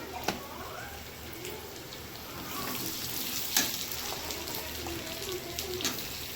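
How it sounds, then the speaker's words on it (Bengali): Ridge gourd, potato and carrot frying in oil in a wok, a soft continuous sizzle with occasional stirring clicks and scrapes, fairly quiet and with no one talking. "গাজর আলুটাও ভেজে নেবো"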